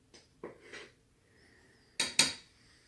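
A utensil scrapes and clinks against a bowl while the last of the flour is mixed into cottage cheese roll dough, making a few soft knocks followed by two sharper, louder clinks close by, with no talking.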